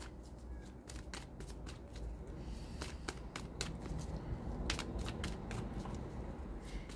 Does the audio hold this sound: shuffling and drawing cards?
yes